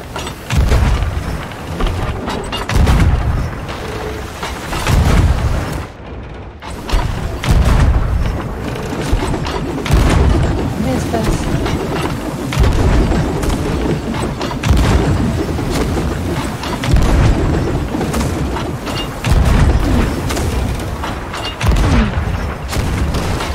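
Ship cannon fire during a naval battle in the pirate game Sea of Thieves, heavy booming shots repeating every few seconds over a constant roar of sea and wind, with faint voices underneath.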